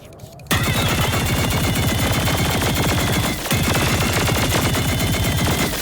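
Layered rapid gunfire with bullet impacts from the video game Plants vs. Zombies: Garden Warfare 2, a loud, dense, Gatling-like rattle that starts abruptly after a brief quiet moment and continues almost without a break, pausing only briefly once.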